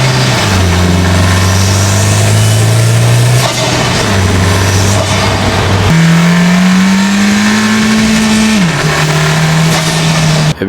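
A 2018 Honda Civic Si turbocharged engine fitted with a PRL cold air intake revs loud and close, its pitch climbing in steady pulls, then dropping and rising again, with no talking.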